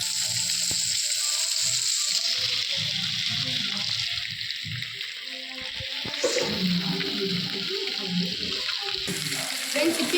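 Garlic and curry leaves frying in hot oil for a village-style fish fry, giving a steady, close sizzle with watery crackle throughout and faint talk in the background.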